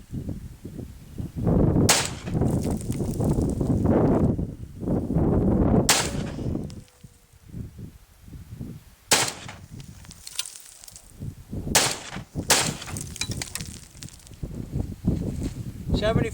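An AK-74 rifle fitted with a muzzle device fires single loud, sharp shots outdoors, about five cracks spaced several seconds apart, each followed by a rumbling echo and dusty rustle, with someone speaking between shots.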